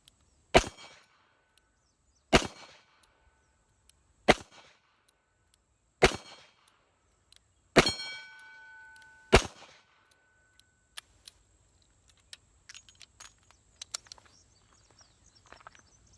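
Six sharp gunshots from a 1987 nickel-plated Smith & Wesson Model 15 K-frame .38 Special six-shot revolver ring out at the range, evenly spaced about two seconds apart, each loud crack trailing a brief echo, followed by faint scattered clicks.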